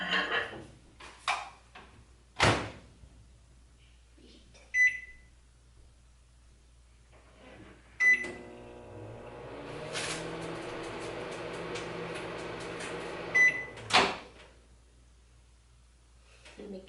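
A microwave oven heating food hums steadily for several seconds between sharp beeps and door clunks, with faint crackles and some nearby talk.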